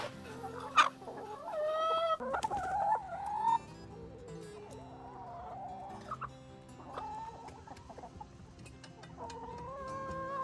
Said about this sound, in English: Such good chooks.